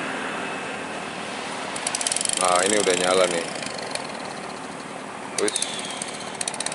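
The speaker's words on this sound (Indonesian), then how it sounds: "Mesinnya dihidupin dulu ya" Engine of a small fishing boat at Pangandaran's east coast running in a steady loud drone, near, with a voice talking briefly over it.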